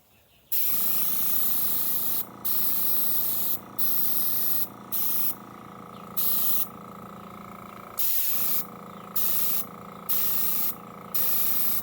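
An airbrush sprays in repeated steady hissing bursts, each lasting about a second or more with short gaps between them, close and fairly loud, with a low mechanical hum from the compressor running underneath.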